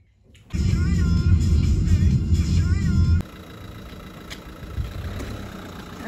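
A car engine hums loudly while driving, a steady mid-low drone that drops to a quieter rumble about halfway through and continues at that lower level.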